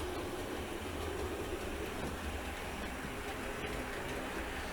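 An N-gauge model train runs on a 24-foot home layout, a steady close rumble and rattle of small wheels on track, continuous and even throughout.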